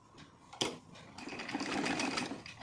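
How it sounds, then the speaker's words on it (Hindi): A sewing machine stitches a folded hem on a heavy silk saree, its motor whirring up into a steady close hum after a sharp click. "उसके बाद हम इसमें सिलाई लगाते जाएंगे।"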